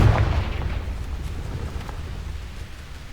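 A Confringo blasting spell goes off in Hogwarts Legacy, a loud boom at the very start that decays into a low rumbling tail over a few seconds, with no one talking.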